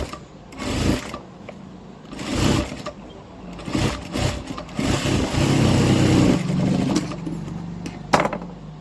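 A sewing machine runs a double stitch on a padded blouse in short, fast whirring bursts separated by pauses, close and clear with no talking.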